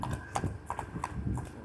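A horse's hooves clip-clop in a smooth, showy royal gait, with several evenly spaced strikes close by over a low background rumble.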